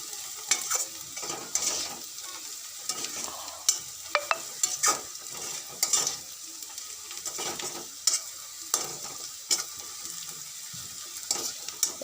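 Garlic fries and is stirred in a pan, giving a soft continuous sizzle broken by repeated scraping clicks of a spatula against the pan, with no voices.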